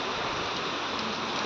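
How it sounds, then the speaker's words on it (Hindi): Steady, dense rainfall at Pilibhit Tiger Reserve hisses continuously at even loudness, a close wash of drops with no voices. "बारिश हो रही है।"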